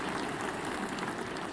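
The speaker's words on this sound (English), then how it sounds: "Let's get an applause for growth mindset" Dense, steady applause from a crowd at an educational review event, a continuous wash of clapping with no voices over it.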